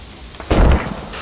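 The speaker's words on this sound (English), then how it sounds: "Taking fire, taking fire." Gunfire in the World War II shooter game Squad 44 erupts as a sudden loud, booming burst midway through, then rumbles and decays over a low background hum.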